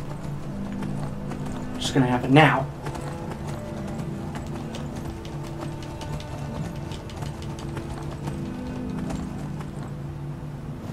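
Horse hooves clip-clop in a Skyrim video game, a quick, steady, fairly faint patter of hoofbeats running beneath people talking.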